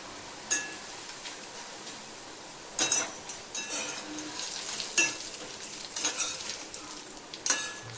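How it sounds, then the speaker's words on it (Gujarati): Poha (flattened rice) frying in hot oil for a Diwali chevdo snack, a continuous close sizzle broken by bursts of crackling and metal spoon scrapes against the pan, no voices. "પૌવાને આપણે તળી લઈશું"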